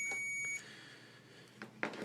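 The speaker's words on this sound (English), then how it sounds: "You can see that it's beeping." A continuity tester held on OBD cable connector pins gives a steady, clear electronic tone that cuts off after about half a second, followed by faint handling clicks and taps.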